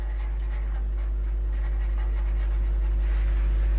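Marker or chalk strokes scratch across a classroom board in quick, repeated short strokes, faint over a constant low electrical hum.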